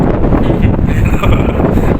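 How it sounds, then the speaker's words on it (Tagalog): Strong wind buffets the microphone in a loud, continuous roar with gusty fluctuations throughout, outdoors on a fishing trip in Abu Dhabi, UAE. "Malakas ng hangin."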